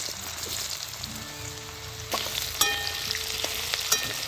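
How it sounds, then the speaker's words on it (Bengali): Potatoes dropped into hot oil with cumin seeds, dry chili and bay leaf for a Bengali-style dish, a steady close sizzle that bursts louder with sharp crackles and spatters as the potatoes go in. "আলুগুলো দিয়ে দেবো।"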